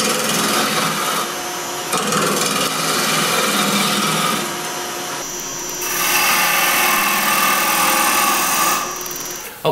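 A woodturning tool held in a 13 mm tool holder cuts spinning wood on a lathe, giving a continuous loud rasping, scraping hiss that shifts in intensity as the cut moves along, with no talking.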